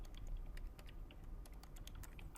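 Soft, rapid keystrokes on a computer keyboard, typed in quick irregular bursts, close but quiet with no talk over them.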